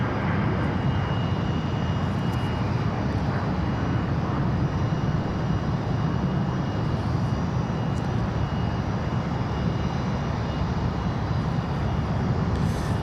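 Blue Angels jets depart Boeing Field on a morning practice run. A loud, constant engine roar fills the whole stretch without letup, and no one speaks.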